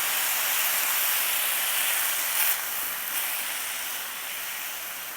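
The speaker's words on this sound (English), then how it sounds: "I'm gonna add a little bit of water. That's gonna create some steam" A loud, steady hiss of steam as water is added to cabbage and carrots cooking in a hot pan, continuous and close, fading slightly toward the end.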